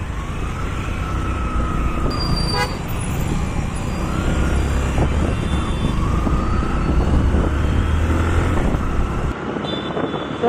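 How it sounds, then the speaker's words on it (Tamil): Strong wind rushes steadily past a moving vehicle on a road trip through Ondipudur toward Singanallur, a heavy low roar with engine and traffic rumble underneath that drops away near the end. "நல்லா காற்று வந்துட்டு இருக்கு"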